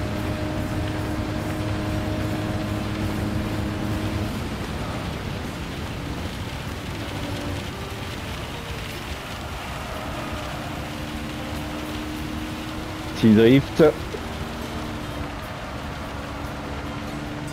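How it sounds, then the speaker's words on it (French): Steady hiss of rain in a Gran Turismo 7 race, joined by a continuous engine drone. A short burst of louder sound comes late, and a voice speaks briefly. "Oh, la pluie là, faut tellement faire gaffe."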